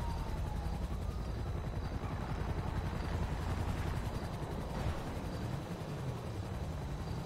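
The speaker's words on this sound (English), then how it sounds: "They called a helicopter in, too." A police helicopter drones steadily in a video game, its rotor chop a constant, moderately distant thrum with no break.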